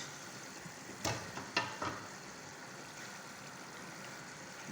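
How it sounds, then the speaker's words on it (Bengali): Lamb pieces drop into a hot pan with potatoes, capsicum and chilli, giving a few sharp hisses and clatters around the first two seconds before settling into a faint, steady sizzle with no voices. "চলেন এখন গোস্তগুলো দিয়ে দিচ্ছি"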